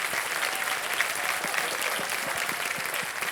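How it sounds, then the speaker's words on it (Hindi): A studio audience on a quiz show claps loudly and continuously, a thick even burst of many hands that fills the short stretch without a break. "जोरदार तालियां बज जाएं इनके लिए"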